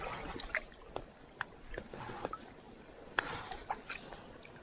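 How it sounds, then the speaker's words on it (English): Water trickles and gurgles over a small beaver dam at the eastern side of Grass Pond, a soft, faint flow with scattered little splashes and drips close by. "Hear the water flowing."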